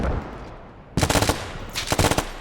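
Automatic gunfire from the video game Squad crackles in two loud, rapid bursts after a brief quieter moment, each burst a dense rattle of shots.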